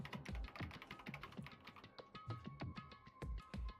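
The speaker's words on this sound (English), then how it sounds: "Starting hitting one of the buttons of the keyboard." Rapid keyboard key presses in the video game Danganronpa Trigger Happy Havoc, a steady run of close, crisp clicks and taps with a faint tonal hum in the background.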